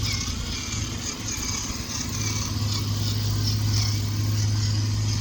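WPL C14 RC truck with portal axles driving at full speed, a steady high electric motor whine with a buzzing drone that holds constant and fairly loud throughout.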